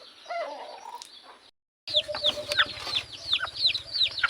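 Labuyo wild junglefowl chickens, soft clucks and coos followed after a short gap by a rapid run of sharp, repeated chirping calls over a low rhythmic buzz, fairly faint and close.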